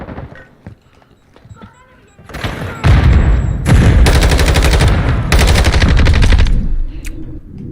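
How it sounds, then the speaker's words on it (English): SMG fire in Call of Duty MWII on Xbox: after quiet game sounds, loud, rapid automatic bursts crackle in long strings with a brief pause between them, while a voice talks over the shooting. "That's an SMG, folks."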